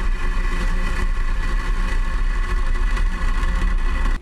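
A SpaceX Falcon 9 rocket lifts off from Space Launch Complex 4 carrying 15 Starlink V2 mini satellites. A loud, continuous, broad rumbling roar holds steady until it drops away at the very end.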